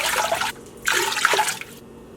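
Water pours into an Instant Pot holding two pounds of pasta, a close, loud gushing splash in two bursts with a brief pause between.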